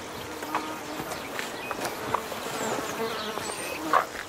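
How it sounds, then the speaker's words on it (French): Swarms of insects buzz steadily around farm animals on a farm, a dense continuous drone with a few louder passes drifting close. "dehors, des tourbillons d'insectes tourmentent les animaux"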